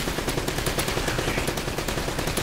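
Steady, dense gunfire from the video game Uncharted: Drake's Fortune, with overlapping rapid shots rattling continuously and loudly through the whole stretch, no voices.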